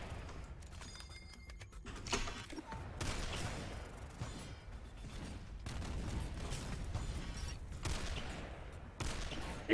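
Rapid automatic turret gunfire from the shooter game Ammo SYNTHETIK, rattling in several bursts across the stretch with short pauses between, fairly quiet and mixed with other game noise.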